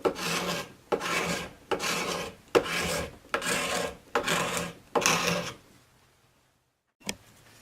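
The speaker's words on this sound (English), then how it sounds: "I'm going to start doing a series of scraping with some furniture scrapers." A steel furniture scraper rasps along a locust wood atlatl in seven steady, even strokes about a second apart, close and fairly quiet, then a pause and one short final scrape.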